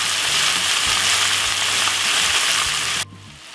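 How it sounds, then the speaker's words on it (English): Loud, dense sizzling of vegetables frying in a pan, steady for about three seconds before abruptly dropping to a quieter hiss. "So we're gonna let this fry for about 6 minutes."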